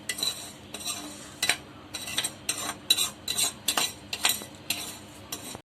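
A spoon stirring rava payasam in a pot, scraping and clinking against the metal in a steady series of short strokes, close and clear with no talking.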